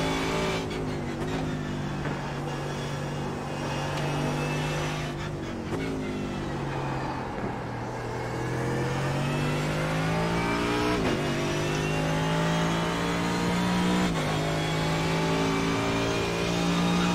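Mercedes race car engine in the iRacing VR sim, an IMSA race at the Nürburgring, droning loud and close with steady revs that dip and climb through gear changes and braking for the whole stretch.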